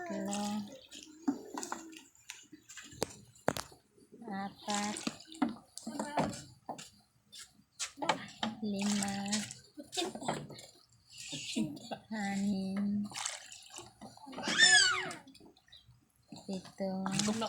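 Scoops of water are poured one at a time into a batch of puto kutsinta batter, giving short splashing pours separated by pauses, with people talking and counting in between.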